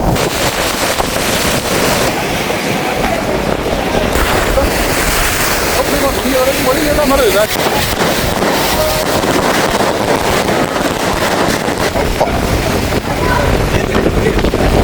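Storm-like wind and a rough sea on the Keerimalai coast make a loud, unbroken roar, with gusts buffeting the microphone over churning surf.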